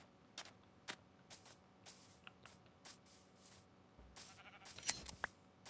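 Minecraft sheep bleat in short, separate calls scattered across the moment, mixed with brief clicks and shuffling game sounds, fairly quiet overall with no talk.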